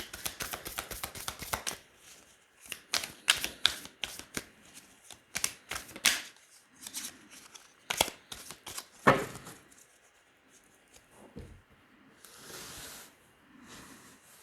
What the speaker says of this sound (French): on va tirer 9 cartes